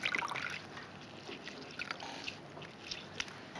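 Water dripping and trickling from blanched greens squeezed hard by hand after rinsing in cold water, a close, soft run of wet drips and dribbles with small irregular splashes, no voices.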